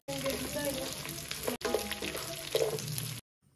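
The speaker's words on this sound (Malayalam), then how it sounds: "ഒരു എട്ട് മിനിറ്റ് മീഡിയം ഫ്ലെയിമിൽ വെച്ച് ഒന്ന് ഫ്രൈ ചെയ്തെടുത്താൽ മതി" Loud, constant sizzling of beef frying in a hot pan over a medium flame, briefly cut off midway, then resuming before stopping abruptly.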